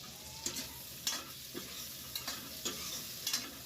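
Ginger stirred and fried in a pan for shahi paneer gives a quiet, steady sizzle, broken by about eight soft spoon scrapes spaced unevenly.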